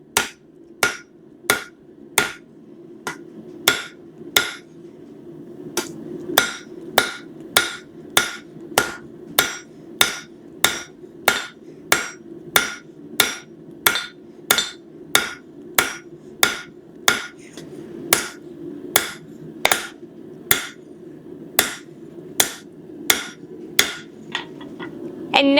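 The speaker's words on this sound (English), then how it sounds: "start hammering the second corner, or the opposite corner" Sharp metallic hammer blows ring out one after another on hot steel on an anvil while forging the handles of bolt tongs, evenly paced at about one strike per second, loud and close, with a faint background hum.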